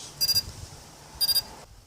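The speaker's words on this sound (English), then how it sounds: "that's the sound of the quad being ready for use" Two short bursts of high electronic beeps from a quadcopter drone signalling it is ready, each a quick triple chirp about a second apart, then quiet with faint wind noise underneath.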